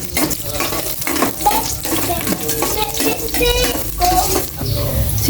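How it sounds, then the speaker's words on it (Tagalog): Ginger sautéed in a home kitchen pan, a close, busy sizzle with repeated scraping stirs and clinks throughout, without talk. "Igisa ko na po itong luya."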